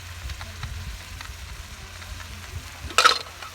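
Masala fries in oil inside a pressure cooker for a Chhattisgarhi goat curry, a soft steady sizzle with light stirring scrapes and one brighter clatter near the end.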